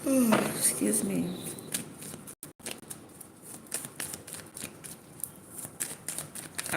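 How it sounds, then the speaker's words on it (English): Tarot cards are shuffled close by in a quick burst of crisp riffling at the start, then softer, steady shuffling continues with faint clicks at low volume. "I'll be shuffling like no tomorrow because I always get the same cards."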